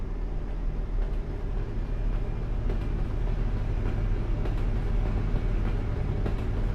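A train rumbles past beside the road in Euro Truck Simulator 2, a steady low-pitched roll with faint rhythmic clatter, continuous and fairly loud, with no talking.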